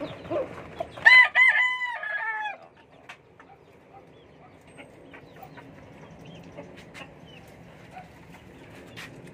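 A pet rooster crows once, fairly close and clear, followed by faint clucks and quiet background rustling with no talk.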